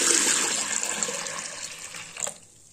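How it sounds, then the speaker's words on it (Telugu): Water pours and splashes into a vessel of chana dal being rinsed, a steady close rush that fades toward the end with a brief splash. "నీళ్ళు పోసి ఒకసారి కడగాలి."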